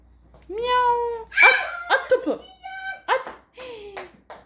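Several drawn-out meows follow one another, some overlapping, with tonal whiny calls close by; they may be a person imitating a cat.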